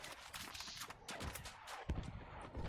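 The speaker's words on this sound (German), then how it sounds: "Oh, Achtung, sie geschossen." Gunfire in the shooter game Battlefield 6, scattered bursts and single cracks at moderate distance, fairly faint overall, with a sharper nearby shot toward the end.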